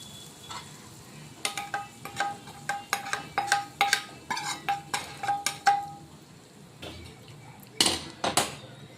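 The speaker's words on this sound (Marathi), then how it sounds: "सांबार याला छान मिक्स करून घ्यायचं आहे आता आपल्याला" A spoon stirs cabbage and soaked chana dal chutney with tempering in a metal pan, giving a run of close, regular clinks and scrapes, then a pause and two final knocks.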